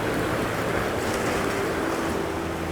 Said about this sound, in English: When the waves come in close and they start to break on the back bank